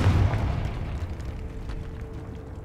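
A Confringo blasting spell explodes in the Hogwarts Legacy video game inside a decayed catacomb. A loud, deep rumbling boom hits at once, then fades into a long, steady low roar.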